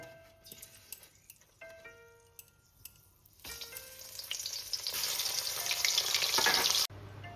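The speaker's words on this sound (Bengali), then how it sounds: "ইলিশ মাছের মাথা আমি ভেজে তুলে নিয়েছি" Hilsa fish head, rubbed with salt and turmeric, frying in hot oil, a steady close sizzle that swells loud and dense before cutting off abruptly near the end.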